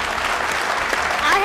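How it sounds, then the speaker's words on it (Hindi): Studio audience applause on a Pakistani TV comedy quiz show: a dense, steady wash of clapping that holds evenly through the short clip, with a faint tonal sound rising near the end. "बहुत अप्रिशिएट, तालियां बजा दो।"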